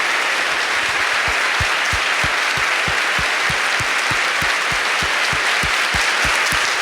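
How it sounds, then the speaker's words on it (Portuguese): A congregation at a Catholic Mass claps loudly and continuously, with a steady low rhythmic thump beating beneath the dense applause. "Pode aplaudir para valer"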